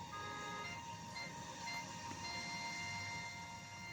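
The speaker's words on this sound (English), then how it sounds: "A sturdy diesel was coming round the mountain." A sturdy diesel locomotive rumbles steadily as it comes round a mountain, a continuous mechanical drone with a faint whine, moderately distant and without any voices.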